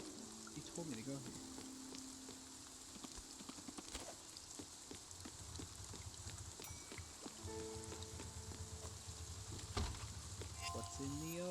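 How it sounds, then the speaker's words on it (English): Steady rain hisses through a scene in the video game Spiritfarer, a constant wash running the whole time beneath game music tones and scattered clicks. "Oh, this rain, will it ever stop?"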